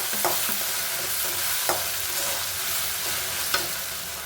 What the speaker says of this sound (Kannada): ಖಾರಕ್ಕೆ ಒಂಚೂರು ರೆಡ್ ಚಿಲ್ಲಿ ಸಾಸು ಇದು ಹಾಕ್ಕೊಂಡು ನೋಡಿ ಎಲ್ಲ ಹಾಕ್ಕೊಂಡು ಫ್ರೈ ಮಾಡಿಕೊಂಡು